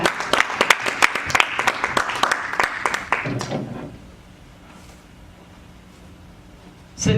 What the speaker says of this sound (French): Can you clap your hands for this?